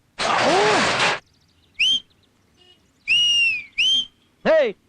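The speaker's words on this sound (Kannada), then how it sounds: "ಯಾವನ ಎಂಬ ನೋಡಿ ಸೀಟಿ ಹೊಡಿತಾ ಇರೋದು?" A person whistling in a series of sharp separate bursts, one long breathy blast followed by several short rising and falling tones with gaps between, close and loud.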